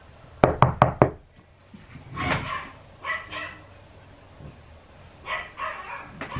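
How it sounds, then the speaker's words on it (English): Four quick, sharp knocks on a door sound up close, followed by a quieter, muffled voice-like murmur in the room. "Why are they knocking on the door right now?"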